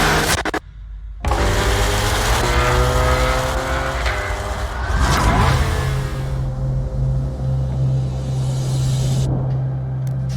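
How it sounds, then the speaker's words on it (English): A Corvette ZR1X engine drones loudly on a fast Nurburgring lap, its steady high-revving tone rising and shifting as the car pulls hard, heard close and continuous after a brief quiet start. "3 Corvettes, 3 different drivers, driving for fast laps."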